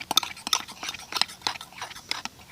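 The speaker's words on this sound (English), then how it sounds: "I'm going to stir it a little bit more" A utensil stirring a hair bleach mixture for a lace closure in a bowl, producing a quick irregular run of close clinks and scrapes with no voices.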